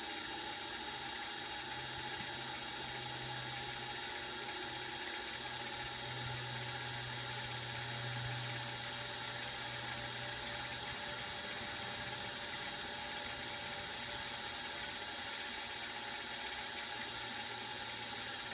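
A lathe spindle running at about 400 rpm during thread cutting, a steady mechanical whir with a constant high whine and a low hum that swells and fades, running alone without talking.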